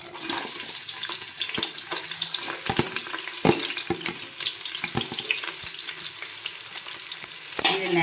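Onions with green chillies and cashews fry in hot oil while a spoon stirs them, producing a dense, close sizzle broken by repeated sharp scraping clicks against the pan.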